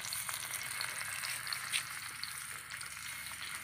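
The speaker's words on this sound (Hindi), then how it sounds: "इसको हम लोग तेल में फ्राई कर रहे" Salted dried fish frying in hot oil, a steady close crackling sizzle that holds evenly throughout with only faint stirring touches and no voices.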